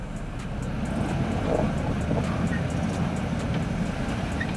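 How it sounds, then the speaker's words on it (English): A Lexus LX 570 SUV off-road, engine revving while its unloaded wheels spin without traction: a steady, dense low rumble with a constant broadband roar and no clear breaks. "You can hear how the RPMs go up, the unloaded wheels are spinning, but nothing's happening."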